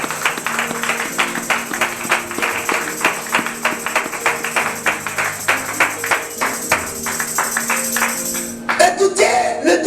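Church congregation clapping steadily in rhythm to acclaim the Lord, loud and close, with singing voices and music underneath and a final burst of louder, looser claps and cheers.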